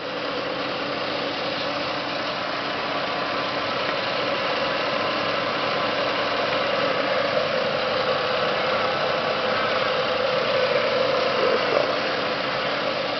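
A stock 2003 Ford Falcon XR6 Turbo engine idles steadily with a smooth, even hum and faint mechanical ticking, heard close with no talking.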